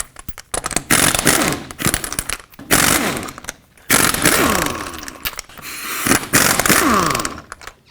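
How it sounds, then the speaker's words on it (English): Impact wrench bursts loosening the lug nuts on a 1997-2003 Ford F-150 front wheel with a 21mm socket, several loud rattling bursts of a few seconds each separated by short pauses, close up with no talk. "take off all 5 of your lug nuts with a 21mm socket"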